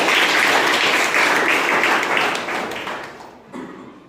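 Loud applause from a school audience during a team competition prize announcement, a dense wash of clapping that slowly thins and fades, with a brief final burst of claps near the close.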